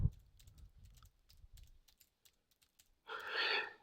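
Soft, irregular keystrokes tap on a computer keyboard at close range, scattered clicks thinning out before a short burst of breathy noise at the end; no speech.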